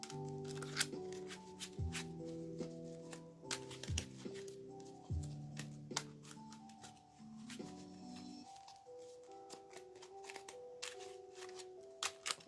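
Playing cards shuffled by hand, a steady run of crisp riffling clicks and short flutters repeating over several seconds, close up and fairly quiet, with faint music underneath and no talking.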